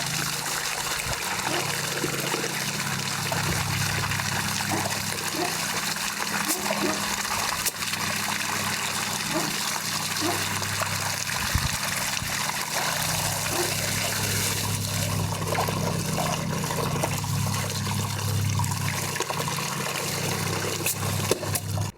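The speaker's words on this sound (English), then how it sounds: "This is the water coming down from that Spa? Yeah, from the water feature." Water from a spa water feature spills steadily into a residential pool in Cape Coral, Florida, a continuous close trickling and splashing that runs the whole time with no voices.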